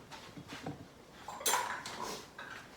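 Soft clinks and clatters of metal cutlery and pots being rummaged through in a kitchen, with one sharper rattle in the middle, fairly quiet and close.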